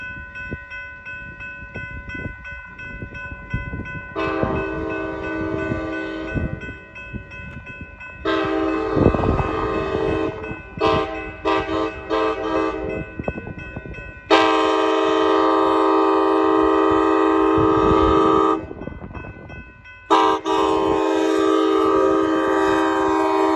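An Amtrak Capitol Corridor passenger train passes at Central Ave in Newark, California, sounding repeated long horn blasts in several bursts over the rolling rumble of the cars going by slowly.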